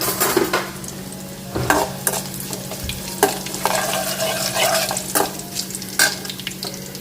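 Mustard seeds and curry leaves, with onion, sizzle loudly in hot oil: a continuous close crackle broken by repeated spatula scrapes and stirs against the pan.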